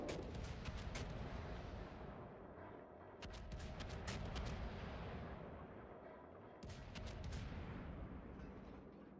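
Naval artillery in a video game fires in heavy, rumbling volleys, with booming blasts and sharp crackling reports that come in several clusters over a continuous loud roar.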